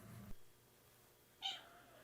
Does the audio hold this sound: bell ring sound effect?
no